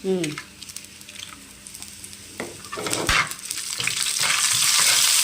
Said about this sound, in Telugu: ఇప్పుడు ఎండుమిర్చి వేసేస్తున్నాను.